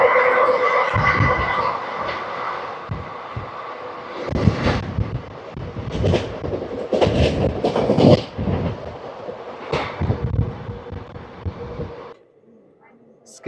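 Aboard the Palnadu SF Express (12747) speeding through Gatkesar railway station: loud, continuous rumble with rhythmic clickety-clack wheel beats and sharp rail thumps, then a sudden drop to quiet near the end.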